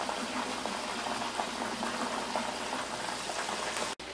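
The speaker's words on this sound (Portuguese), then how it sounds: "já passou 12 minutos que tá fritando" Chicken pieces fry in hot oil in a home kitchen, giving a steady, dense crackling sizzle close by that is broken by a brief dropout near the end. No voices are heard.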